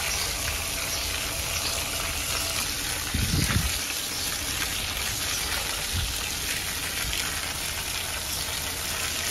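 Water spray hitting a car's condenser and radiator during cleaning, a steady hissing, splattering wash close by, with a brief louder burst partway through and no talking.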